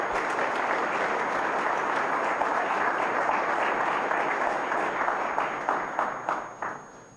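A church congregation at Sunday Mass applauds the choir with loud, sustained clapping from many hands, then the applause thins into scattered individual claps that trail off at the end.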